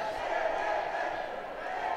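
Crowd at a SEA Games flyweight boxing quarterfinal between the Philippines and Indonesia, a dense continuous roar of cheering voices filling the arena, loud and steady throughout.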